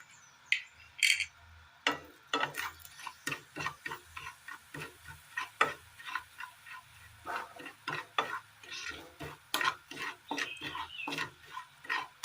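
Roasting spice powders with crushed cloves, fennel, cinnamon and cardamom are stirred in a pan. A spoon scrapes and taps in a steady run of short strokes over a faint sizzle, close and fairly quiet, with no voices.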